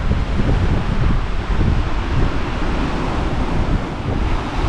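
Steady, heavy wind roars across the microphone on the Vancouver Island coast, Canada, buffeting it continuously with low rumbling gusts, with a faint wash like surf behind it.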